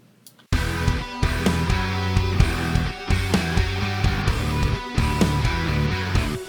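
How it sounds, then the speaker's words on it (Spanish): Distorted electric guitar run through an amp plugin, loud chugging chords and sustained notes with a rhythmic, palm-muted pattern starting after a brief silence. "ahí conseguimos más sonido distorsionado, pero seguimos manteniendo gran parte de la definición"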